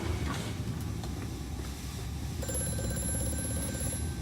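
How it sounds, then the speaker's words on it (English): A telephone ringing in the horror video game Amnesia: A Machine for Pigs, a faint bell ring over low rumbling ambience, a sustained ringing tone coming in clearly in the last couple of seconds. "phone, stop ringing"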